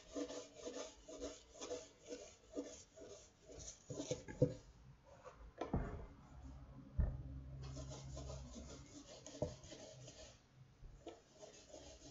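Wood being sanded by hand with sandpaper, rhythmic rasping back-and-forth strokes, close and fairly quiet, with a few knocks and pauses partway through.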